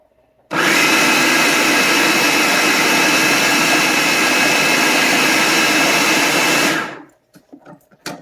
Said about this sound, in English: Let me get that all blended in really well, and then we can do a taste test. I love the food processor.